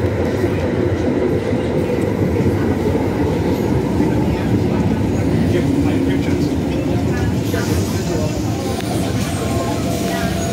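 A Tyne and Wear Metro train rumbles at a station platform with continuous loud rolling and clatter, and its pitch rises and shifts near the end. Platform ambience and faint voices sit underneath.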